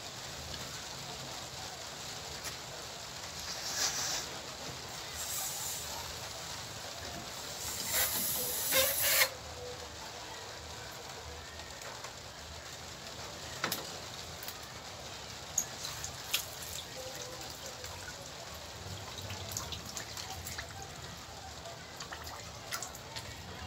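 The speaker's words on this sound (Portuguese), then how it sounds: "Vou encher aqui a bexiga." Tap water runs to fill a water balloon, a faint continuous hiss that lasts throughout, with brief louder surges and a few small knocks.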